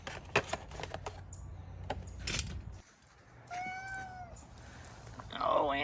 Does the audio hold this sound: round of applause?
no